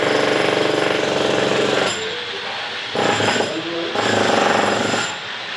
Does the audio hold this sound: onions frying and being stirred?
no